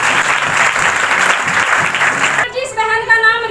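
Congregation applause at a live healing service, steady dense clapping that cuts off abruptly, followed by a voice speaking.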